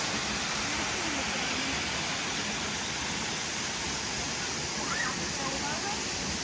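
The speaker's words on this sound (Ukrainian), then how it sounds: "Ми на водоспаді." Steady, loud roar of rushing water from a waterfall in the Carpathians, a constant broadband wash that masks everything else from start to finish.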